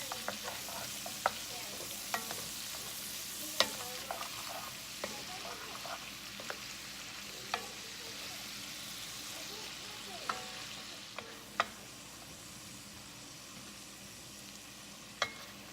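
Chicken and vegetables stirred and scraped in a pan, a steady sizzle with irregular clicks and scrapes of the utensil against the metal, close and moderately quiet, with no talking.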